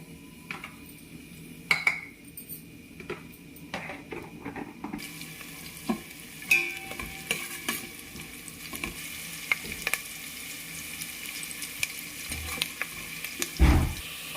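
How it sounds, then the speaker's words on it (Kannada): Faint crackling and sizzling of mustard seeds popping in hot oil for tempering, with occasional clinks of a utensil against a pan. "ಈಗ ಎಣ್ಣೆ ಕಾದಿಗೆ ಸಾಸಿವೆ ಹಾಕ್ತಿದ್ದೀನಿ"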